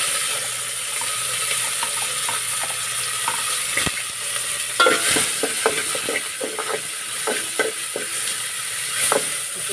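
Onion and garlic frying in hot oil, a steady sizzle with scattered scraping and tapping from a utensil stirring the pan, growing busier partway through.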